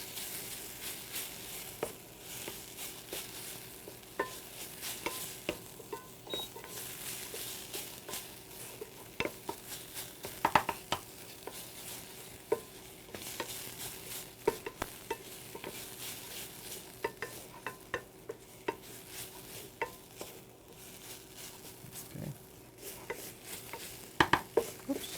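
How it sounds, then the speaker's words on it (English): Onions fry gently in a pan while breakfast sausage is being made, a soft steady sizzle broken by frequent sharp clicks and scrapes of a utensil stirring against the pan. "You don't want to brown them too much, get too much color on the onions."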